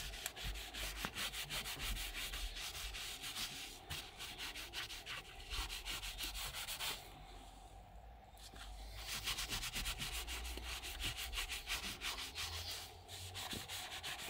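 A new nylon scrubber pad scrubs a Subaru Impreza STI steering wheel with a little foam, giving a close, continuous rough rubbing with rapid back-and-forth strokes and a brief pause midway.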